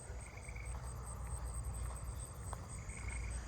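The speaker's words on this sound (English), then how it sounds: "I can't believe I heard snowy tree crickets this early." Snowy tree crickets chirp at night in a neighbourhood, a faint, steady run of evenly spaced pulses heard from a distance over a low background hum, with no voices.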